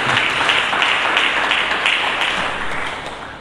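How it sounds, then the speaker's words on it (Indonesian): A church congregation applauds during a Sunday service, with dense, loud clapping that stays steady throughout and tapers slightly toward the end. "Mari kita berikan tepuk tangan bagi Yesus"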